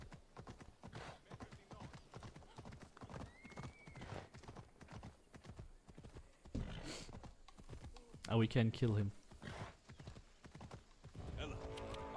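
In Assassin's Creed Odyssey, the horse Phobos gallops with rapid, steady clip-clop hoofbeats, joined by a whinny and combat sounds, while someone talks over the game audio and keyboard clicks tap along.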